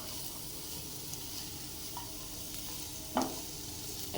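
Small onion frying in butter with garlic in a pan, a continuous bright sizzle with one sharp stirring scrape partway through, close and steady throughout.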